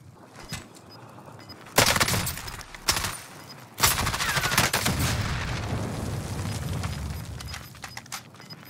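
CX9 submachine gun fire in a shooter game, two loud sustained automatic bursts, the second longer and trailing off, separated by quieter gaps with a few faint distant shots.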